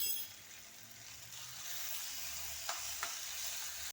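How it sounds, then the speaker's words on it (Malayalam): Samosa masala filling with black pepper powder is stirred in a pan over high flame, a faint, steady sizzle with two soft clinks of the spoon against the pan near the end. "ഒരു 1/2 ടീസ്പൂൺ കുരുമുളക് പൊടി ഇട്ട് ഇളക്കുകയാണ്"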